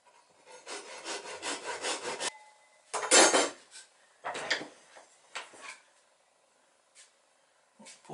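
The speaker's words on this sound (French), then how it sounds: "On va scier comme ça le marsouin de quille." Hand saw cutting a wooden keel piece for a toy boat, a run of quick rasping back-and-forth strokes close up, then a few louder separate strokes with pauses, ending in sparse light scrapes.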